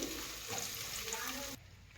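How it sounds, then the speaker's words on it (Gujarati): Gujarati dhokla pieces tempered in hot oil crackle with a dense frying sizzle that drops to a quieter hiss partway through, soft and close. "ચાલો અહીં મસ્ત તેલ આવી ગયું છે તો આપણે એમાં ઢોકળા એડ કરી દઈશું બધા."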